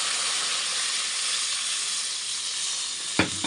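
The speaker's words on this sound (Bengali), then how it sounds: "আর এখন আমি ঝোলটা দিয়ে দিচ্ছি।" Fish curry broth poured into a hot pan of fully fried spice paste, giving a steady loud sizzling hiss throughout, with a couple of brief knocks near the end.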